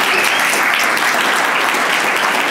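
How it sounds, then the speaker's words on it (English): An audience claps steadily and loudly at an evening event, a dense unbroken wash of applause throughout. "Let's give another round of applause to Dr. Danny Avula."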